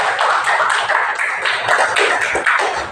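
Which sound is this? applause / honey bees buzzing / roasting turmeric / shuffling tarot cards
applause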